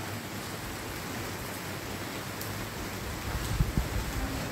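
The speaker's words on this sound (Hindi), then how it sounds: "पेड़ों पे बारिश और पेड़ मतलब मौसम अच्छा बना देते हैं बहुत।" Steady rain falls on trees outdoors, a soft continuous hiss with a few louder drips near the end, faint and without voices.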